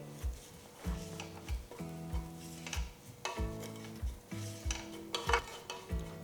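A spoon scrapes and stirs a coarse coriander and red chilli flake masala with salt in a pan over a low flame, rhythmic metallic strokes roughly once per second with a soft sizzle underneath, close and fairly quiet.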